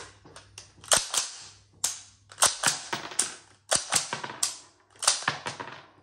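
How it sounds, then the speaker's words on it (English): A Taipan Light rifle action cycled by hand with snap caps, giving a run of sharp metallic clacks and snaps in uneven clusters, loud and close with short gaps between strokes. "I'll just give you a quick demo of how the rifle cycles."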